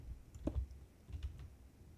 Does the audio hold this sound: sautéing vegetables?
no